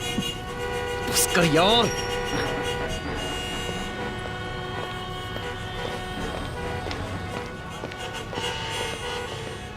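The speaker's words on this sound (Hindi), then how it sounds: "क्यों हॉर्न बजा रहा है?" A car horn sounds in a sustained blare near the start, then fades under an idling engine and a voice.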